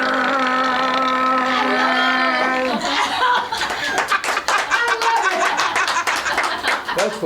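A voice imitates a Harley Davidson motorcycle during a yo-yo trick, a steady buzzing engine drone that breaks into sputtering revs, followed by clapping, laughter and chatter from a studio audience.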